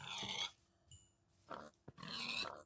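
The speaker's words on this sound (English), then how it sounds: "Okay, let's just kill these two pigs." Two bursts of rough, noisy grunting from pigs in Minecraft, separated by a short pause, fairly close, with no talking.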